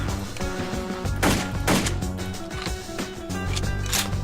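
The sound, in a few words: Kel Tec PLR-16 semi-automatic shots in World of Guns video game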